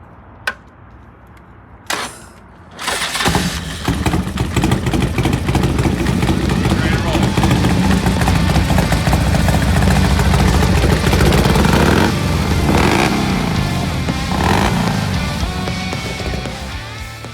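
A Harley EVO motorcycle engine with adjusted cam and pushrods starts after a couple of short cranks, then runs loud and steady, revving and idling up close with no talk over it.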